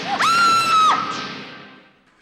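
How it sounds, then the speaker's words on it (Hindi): A woman in a classic Indian TV drama series lets out one loud, sustained high scream that breaks off sharply, followed by a fading echo, with no talk. "बबली इधर नहीं तो इतना क्यों चिल्ला रही है?"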